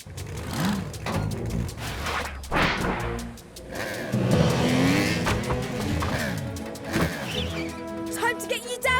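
Engines rev, whine and swoop in a busy cartoon motorbike rescue scene, with loud rising and falling tones, bursts of effects and voices talking over them.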